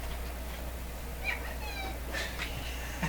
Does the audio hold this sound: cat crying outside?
yes